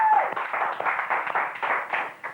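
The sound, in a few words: studio audience clapping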